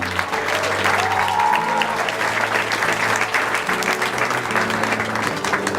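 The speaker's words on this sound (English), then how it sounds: "Give them a round of applause" Wedding guests applaud in a hall, a thick, continuous spread of clapping from a sizeable crowd, with a faint hum underneath and no clear speech.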